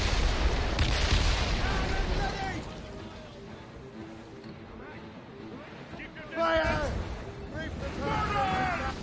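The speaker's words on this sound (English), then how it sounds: "Fire! Cannon ready! Fire!" Ship cannons boom repeatedly during a naval battle in Assassin's Creed Rogue, heavy blasts with splashing and crashing debris while voices shout orders under the gunfire.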